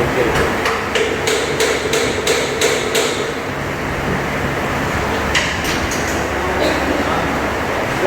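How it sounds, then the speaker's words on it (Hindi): Rapid series of sharp metallic hammer strikes during a Yamaha YZF R15 motorcycle service, about eight in quick rhythm, then a pause and a few more blows, over a busy noisy workshop background. "इतना भयंकर हथौड़ा चला रहे हैं"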